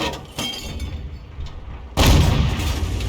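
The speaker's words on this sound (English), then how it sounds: "He's firing into the distance, thinking he's over there." A tank gun fires in a video game, a sharp booming blast landing about two seconds in after quieter rumbling and a fainter thump, followed by heavy low-frequency reverberation.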